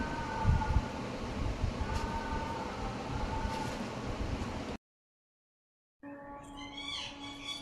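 A small toy train rumbles and clatters steadily for several seconds, cuts to silence briefly, then resumes with a higher whirring and faint chirps.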